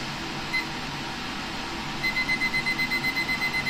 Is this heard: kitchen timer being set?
yes